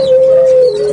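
A male turtle dove gives a short, steady cooing note, loud and close, held evenly for about a second.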